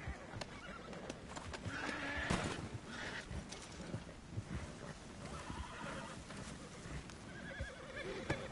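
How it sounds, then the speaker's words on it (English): A horse in Red Dead Redemption 2 whinnies and snorts over a steady clip-clop of hooves, the neighs recurring through a low, busy outdoor mix. "All right, that's my horse."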